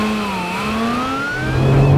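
A Lotus Emira's 3.5-litre supercharged V6 revs and pulls, its engine note rising smoothly through the gears and swelling louder toward the end, heard alone.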